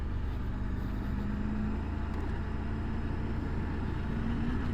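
Steady, loud engine drone of a Triumph Tiger 900 Rally Pro motorcycle on a test ride, with a faint rising tone as the throttle opens, continuous and close throughout.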